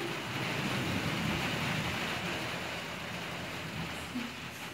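Rain falls in a steady, dense hiss, constant and moderately loud, heard from an indoor kitchen with no clear voices over it.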